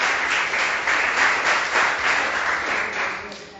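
A church congregation breaks into loud, vigorous applause during a worship meeting, a thick sustained wave of clapping that swells and ebbs slightly and fades a little toward the end.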